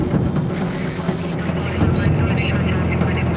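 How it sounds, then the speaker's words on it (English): A heavily fuel-laden Piper Malibu single-engine airplane on a slow takeoff roll on a hot day, its engine a steady loud drone heard from inside the cabin under talk. "since we were loaded with fuel for the long journey, our takeoff roll took forever"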